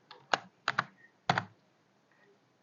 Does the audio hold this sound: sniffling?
no